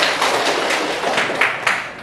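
Group of participants in a classroom teaching session clapping hands together, a close, dense burst of applause with a few sharper claps near the end, no talk over it.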